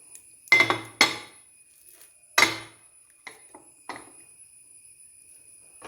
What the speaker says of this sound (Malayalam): ഇനി നമുക്കതെടുത്ത് നമ്മുടെ പ്ലേറ്റിലേക്ക് മാറ്റാം.